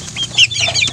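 Farm-raised chickens about 45 days old cluck in a quick burst of short calls, close and clear, with no voices over them.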